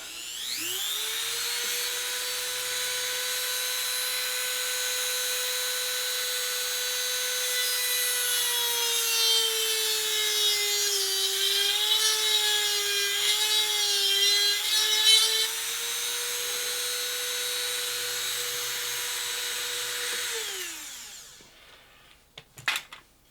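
Reamer wrapped in rough sandpaper turning inside the bore of a wooden flute, a continuous close rubbing and scraping with a droning tone that runs for about twenty seconds before stopping with a few small knocks.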